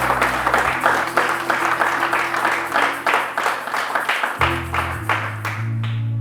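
A church congregation applauds in sustained, rhythmic clapping that is loud and close, with a low musical tone underneath before the clapping thins out at the end.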